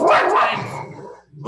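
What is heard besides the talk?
dog barking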